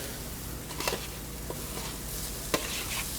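Vegetables and tofu stir-fry in a pan for General Tso's chicken, a steady close sizzle broken by a few sharp clacks and scrapes of stirring.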